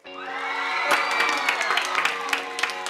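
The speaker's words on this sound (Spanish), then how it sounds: "Aplausos para Gloria" A crowd cheers for Gloria, a contestant in a battle-style competition, with sustained whoops and shouting that swell into scattered clapping, all loud and lively.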